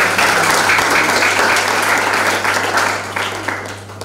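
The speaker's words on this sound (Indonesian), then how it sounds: "Mari kita kasih aplaus buat" Audience applause at a university public lecture, a dense steady clapping from a large crowd that stays loud and then tapers off over about four seconds, with a low hum underneath.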